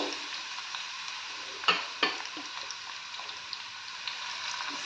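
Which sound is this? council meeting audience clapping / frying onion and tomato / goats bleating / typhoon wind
frying onion and tomato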